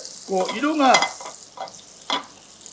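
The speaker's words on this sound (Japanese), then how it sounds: "煙をね、僕らこうやってちょっとバターをねちょっと入れるんです。" Butter dropped into a smoking-hot pan beside a searing steak bursts into loud, close sizzling and spitting, with a strong first flare that fades, followed by a couple of shorter sputters.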